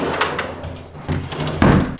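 A pocket door to a bathroom in an empty house slides along its track with a few rumbling pushes and a firmer bump near the end. It is close and fairly loud, with no talking.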